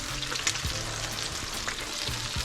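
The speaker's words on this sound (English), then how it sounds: "This is your first time frying fish?" Catfish pieces frying in hot grease give a steady, dense sizzle with crackles and pops throughout, loud and close, with no voices.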